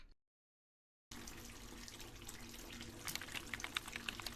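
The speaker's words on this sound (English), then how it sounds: "Let's get the bath ready." A bathtub fills with running water in a horror video game, a steady close faucet rush that starts abruptly after a short silence and continues with small splashy fluctuations.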